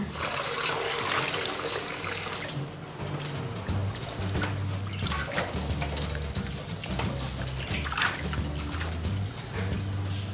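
Tap water runs steadily as asparagus is rinsed under it, a continuous gushing stream with soft music playing underneath.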